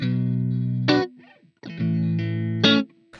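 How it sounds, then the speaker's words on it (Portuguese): An electric guitar plays through a line input with the reverb switched off, giving two dry sustained chords, each ending in a sharp strum and a short, clipped decay, close and loud with no speech. "Se eu desligo o meu reverb, ó, fica muito seco"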